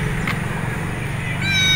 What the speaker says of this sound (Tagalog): yung dala namin pusa